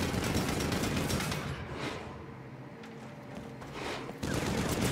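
Sustained turret gunfire roars in the Saints Row video game, dense rapid bursts that ease off midway and then return loud and continuous.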